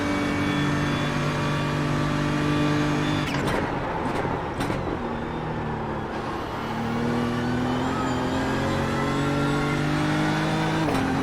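GT3 race car engine circling Imola in the iRacing sim, a steady loud harmonic drone that dips under a couple of sharp gear-change cuts mid-clip, then climbs again in pitch as it accelerates.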